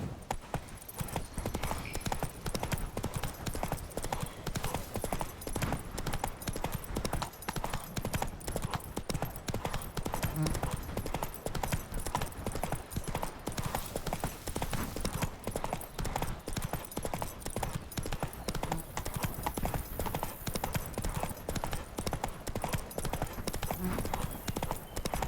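Galloping hooves of the horse Roach in The Witcher 3 pound in a fast, steady clip-clop rhythm that runs unbroken for the whole stretch at moderate, even loudness.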